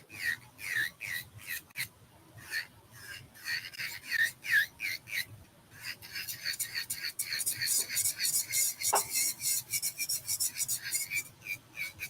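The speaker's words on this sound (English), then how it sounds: "So it's nice buffing and cleaning it." A nail file rasps quickly back and forth across a fingernail while buffing and cleaning it, close rhythmic scraping strokes that come in bursts, then speed up into a faster, denser run.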